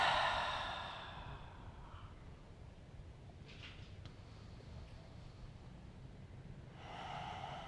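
Slow, breathy exhales during a gentle grounding yoga session, one soft sigh at the start and another near the end, close and quiet with a faint hiss between them.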